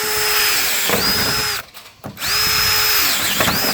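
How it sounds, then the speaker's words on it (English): A power drill whines loudly while drilling holes in a plastic drum, spinning up and down in two long bursts separated by a short pause. "Now I'm just drilling all those holes."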